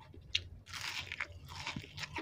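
Crispy fried egg roll snack made from rolled egg gets bitten into, giving several sharp crunches and crackly munching bursts, close and clear in a quiet room.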